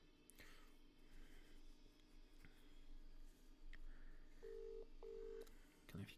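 Two short steady beeps from a phone keypad sound while dialing to call someone back, faint over a quiet background hum with a soft murmur nearby.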